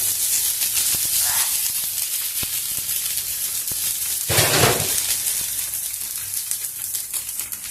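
Coconut dosa batter frying in a little oil on a hot pan gives a steady, close sizzle and hiss, swelling into a louder burst of crackling partway through before settling back to a constant fry.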